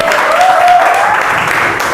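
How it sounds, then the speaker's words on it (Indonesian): Schoolchildren clap together in a classroom, a loud, steady wash of applause lasting about two seconds with a faint voice tone running underneath. "semua tepuk tangan buat kita semua"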